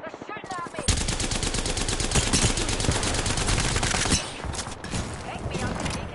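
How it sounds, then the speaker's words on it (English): Sustained automatic gunfire in the video game Apex Legends, with rapid loud bursts running for several seconds and a brief lull before firing resumes, and player voices heard under it. "They're shooting at me."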